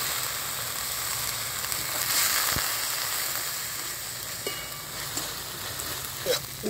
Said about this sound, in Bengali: জল দিয়ে মশলাটা একটু কষিয়ে নিচ্ছি।